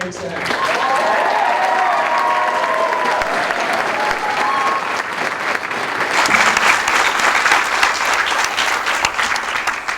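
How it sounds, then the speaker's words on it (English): Sustained crowd applause at a JROTC change of command ceremony, loud dense clapping from an audience that carries on for the whole stretch, swelling slightly toward the end, with a voice briefly audible over it early on. "Can we give Sergeant Irvin a round of applause?"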